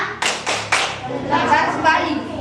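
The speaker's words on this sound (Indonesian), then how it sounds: "Tepuk salut untuk kelas 5." A fifth-grade class in an elementary school performs a rhythmic clapping chant: three sharp, loud claps, then voices chanting over further patterned claps.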